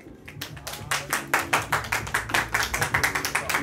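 An audience at a beatbox battle claps to vote, a crowd of hands beating in a steady rhythmic pulse that grows louder over a few seconds, with no talk over it.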